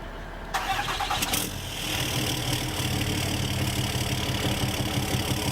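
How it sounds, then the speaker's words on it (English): Truck engine in the Farming Simulator 2015 game starting up and then running as the truck is moved back, a steady mid-pitched diesel drone that grows slightly louder, with no talk over it. "let's move the truck back a bit"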